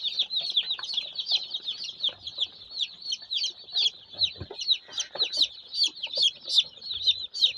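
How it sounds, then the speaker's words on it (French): Female chicks cheep in a rapid, continuous chorus of high peeps close by while being handled for sexing, with faint handling noises and soft thumps beneath. "Ceci également est un poussin femelle."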